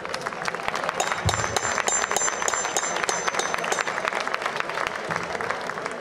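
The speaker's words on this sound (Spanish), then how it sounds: "Un aplauso a nuestros gladiadores." Crowd at an ancient-world historical reenactment applauds the gladiators, continuous even clapping across the whole stretch at moderate volume, with a few faint voices beneath.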